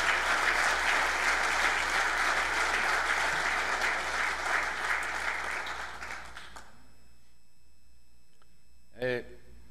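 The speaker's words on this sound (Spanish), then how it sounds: "Pido un fuerte aplauso por la lista número 1, la lista ganadora." A crowd at an election results announcement breaks into loud, sustained applause that gradually thins and fades out, leaving near silence before a brief sound near the end.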